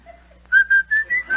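Someone whistles a short run of five quick, bright notes nearby, each note clipped and separate.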